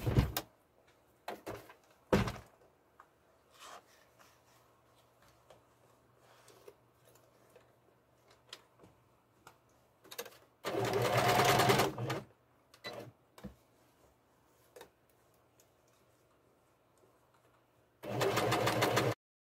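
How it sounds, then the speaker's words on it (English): A sewing machine stitching a fabric basket liner runs in two loud bursts of a second or so each, separated by quiet stretches of light handling clicks and taps on fabric and the machine. "So now I am going to go ahead and stitch."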